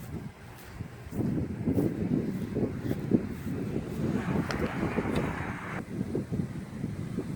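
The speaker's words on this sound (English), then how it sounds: "I hope you can hear me because it's kind of windy." Gusty wind buffets the microphone beside a dock by the water, a low rumbling roar that swells and eases, with a faint brighter hiss partway through and no talk.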